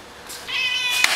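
A single short cat meow, rising then falling, close and clear against a quiet background.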